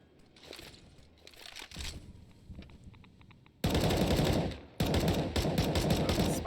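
Counter-Strike gunfire: a few scattered shots and short bursts at first, then loud sustained automatic fire in two long rapid bursts, close and dense.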